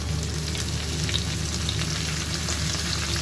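Hot oil left from frying chicken sizzles loudly and evenly as spring onion greens, chopped garlic, ginger and dried chilli cook in it, a dense close crackle with no talk.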